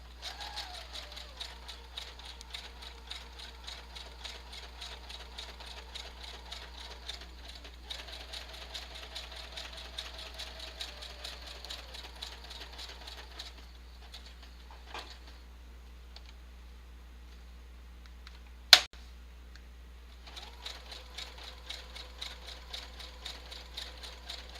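A sewing machine stitches through paper tags for a junk journal in a soft, continuous run with brief pauses and one sharp knock, fairly quiet and close.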